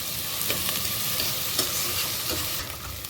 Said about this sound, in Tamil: பச்சை மிளகா, வெங்காயம் நல்ல பொன்னிறமாக வதங்கட்டும்